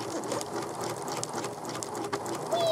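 A sewing machine runs steadily through fabric in a continuous straight stitch while the material is turned to form curvy lines, a close, even mechanical whir with no pauses.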